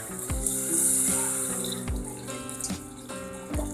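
Water is poured into a pot of spiced beef for haleem, a close, continuous splashing stream that carries on for several seconds.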